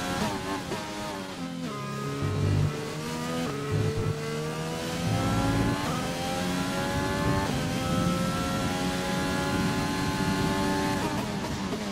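Race car engine in F1 2020 at the USA circuit, a loud continuous high-revving whine with rising and falling pitch as gears shift, steady and close throughout.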